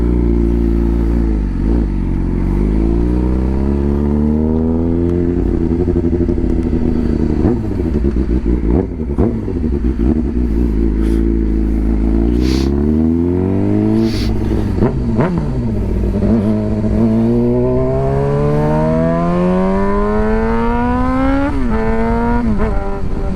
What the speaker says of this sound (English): No, it's still backfiring.